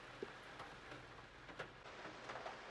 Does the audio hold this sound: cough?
no